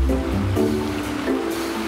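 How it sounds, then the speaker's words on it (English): Steady, close rushing roar of the icy Owengarriff River flowing through forest in Killarney National Park, a continuous broadband wash of water without any talk. "The steady roar of the icy Owengarriff River entices us to venture deeper inside."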